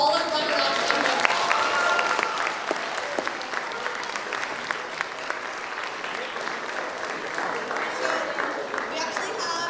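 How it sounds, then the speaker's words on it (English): An audience at an awards evening claps for the runner-ups and winners, a steady, full round of applause that continues the whole time without a break. "let's have another big round of applause for all our runner-ups and winners"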